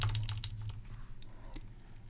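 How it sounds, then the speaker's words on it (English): Fingers tap a computer keyboard in a command shell, a quick cluster of close clicks at first, then sparser single keystrokes trailing off, with no speech. "so I'm typing on this line in my shell"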